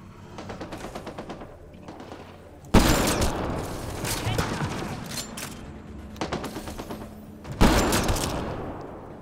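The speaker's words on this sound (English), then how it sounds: "All right, sniper rifle out." Sniper rifle gunfire in the Mass Effect Andromeda video game, with two loud sharp shots cracking out about five seconds apart, each trailing off in a long echoing rumble over low game ambience.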